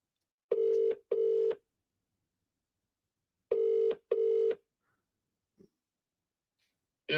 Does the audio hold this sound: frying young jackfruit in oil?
no